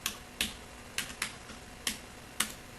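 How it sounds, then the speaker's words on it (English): Keystrokes on a computer keyboard while entering database table data, six sharp separate clicks spaced irregularly across a few seconds, close and clear against a quiet background with no talking. "I type like this."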